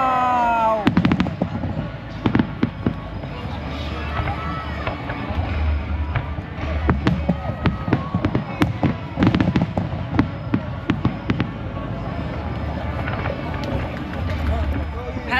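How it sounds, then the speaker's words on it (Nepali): Fireworks at the Seoul International Fireworks Festival on the Han River crackle and boom in rapid, irregular bursts through a loud outdoor crowd, with people talking nearby. "दक्षिण कोरियाको यो फायर फेस्टिभल सौलमा भइरहेको हान रिभरमा चाहिँ अहिले सुरु भइसकेको छ"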